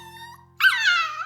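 A dog whines in a single high, wavering cry after a brief quieter moment, close and clear with no talking.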